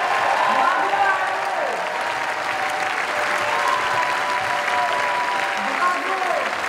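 A large crowd at a Paris presidential campaign rally claps continuously and steadily, a dense wash of applause that holds loud throughout, with faint voices mixed in.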